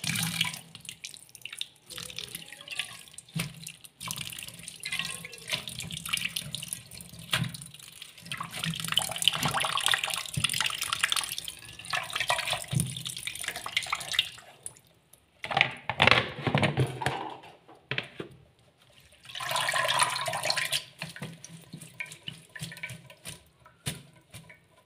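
Kitchen tap water runs and splashes steadily while vegetables and coriander are washed in a sink, with louder gushing bursts and brief pauses as the flow shifts, close by and without talk.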